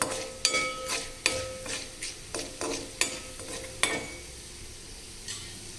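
A tempering sizzles and fries in a pan for raw banana upma curry, with repeated sharp scrapes and clinks of a spoon stirring against the metal over a soft, continuous frying hiss.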